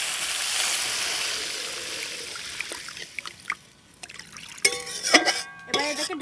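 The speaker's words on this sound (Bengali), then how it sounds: "এবার আমি এর মধ্যে দিয়ে দেবো জল পরিমাণ মতো।" Water poured into a cooking pot of bhola fish curry being prepared, a trickling, splashing pour with clinking near the end, heard close up after a quieter stretch of frying background.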